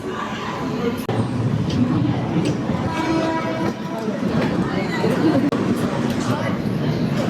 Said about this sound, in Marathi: फायनली जी 12:35ची ट्रेन होती ती 1:35ला येते प्रॉपर 1 तासानंतर